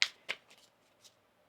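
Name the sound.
shuffling tarot cards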